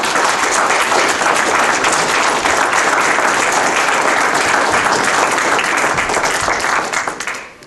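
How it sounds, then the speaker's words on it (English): An audience at a 2013 school board candidate forum claps for the candidates, a dense, steady wash of applause filling the whole stretch before tapering off at the end. "Can we have a round of applause for both candidates, please?"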